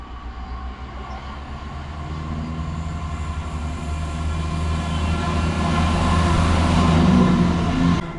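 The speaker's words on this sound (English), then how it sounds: "That train's no stopping" A train runs straight through Dalmeny station near the Forth without stopping, a loud steady rumble and clatter of wheels that builds as it nears and cuts off sharply at the end.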